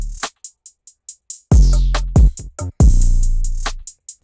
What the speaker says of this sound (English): All the drums together sound like this.